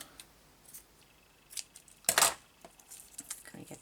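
Scissors snipping paper scraps for a craft board, a few faint close cuts with a sharper snip in the middle, over a quiet background.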